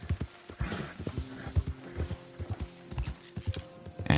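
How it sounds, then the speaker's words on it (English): Horse in Red Dead Redemption 2 galloping through a stand of trees, its hooves striking in a steady, rapid clip-clop rhythm close by, with a brief whinny and faint game ambience in between. "I'll go to like a decent gallop. See, my horse moved there?"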